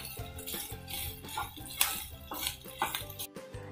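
Onion and grated coconut roasting in a pan for a clam (tisrya) masala, with a utensil repeatedly scraping and clinking against the metal in an uneven rhythm over a steady low background hum, fairly close.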